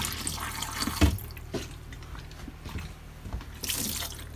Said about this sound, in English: I'll take the last of this jug and just pour it straight in the traps